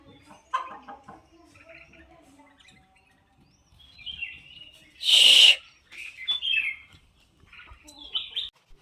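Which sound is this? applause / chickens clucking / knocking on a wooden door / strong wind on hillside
chickens clucking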